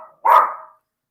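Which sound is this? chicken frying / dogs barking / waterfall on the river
dogs barking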